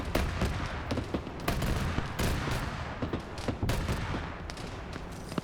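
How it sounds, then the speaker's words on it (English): An autocannon firing in a military video game, with rapid bursts of sharp, booming reports in uneven rhythm over several seconds, moderately loud and without speech. "some sort of autocannon is just kind of murking everything"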